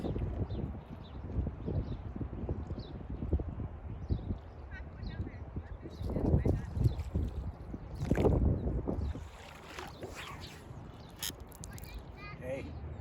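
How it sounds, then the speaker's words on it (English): Steady outdoor wind roars and buffets throughout during fly casting with big flies, with louder gusts partway through and a voice speaking over it. "Battling the wind, battling the elements."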